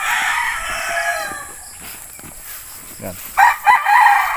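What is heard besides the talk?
rooster crowing, broodstag offspring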